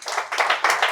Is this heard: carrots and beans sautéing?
no